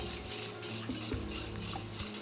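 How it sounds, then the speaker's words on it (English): A whisk clinks and scrapes against a bowl while mixing liquid pancake batter ingredients with melted butter, a close, steady stirring with a few soft taps. "So, we're going to whisk this together just until blended."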